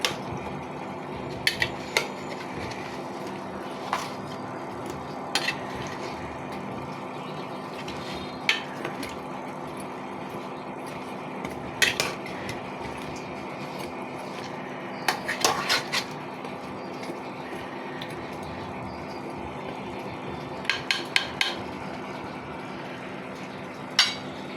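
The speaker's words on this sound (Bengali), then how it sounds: "মরিচের গুঁড়ো অ্যাড করে দিলাম, নাড়াচাড়া করে দিব।" Pumpkin curry with lentils and chili powder being stirred in a pot, with scattered light utensil taps and scrapes over a steady background hum.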